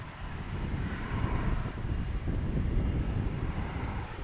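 An airliner bound for Durango, Colorado takes off from Dallas/Fort Worth, a rumbling low jet roar with wind buffeting, steady and fairly distant, swelling slightly in the middle.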